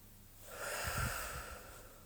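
A single deep, slow breath drawn in and let out close by during a guided French meditation, swelling softly and fading again with no talk over it.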